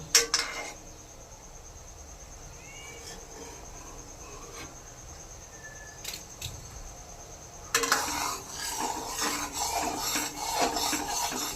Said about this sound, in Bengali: এইবার আস্তে করে ওপর দিয়ে একটু ফেনাটা ফেলে দেব।